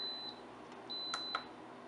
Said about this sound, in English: Oh, the countdown is over. It's beeping at me.